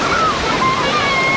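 Sea surf washing in steadily at a crowded beach in Vityazevo near Anapa, a constant broadband roar of waves with wind noise on the microphone, with no clear speech.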